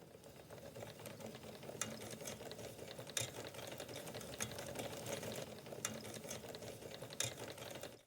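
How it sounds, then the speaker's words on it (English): A 12-speed road bike chain running on the fifth gear with a steady mechanical whirring and ticking, broken by occasional sharper snagging clicks, close and alone. "what you're about to hear is the chain running on gear 5, and you can hear it snagging every now and again."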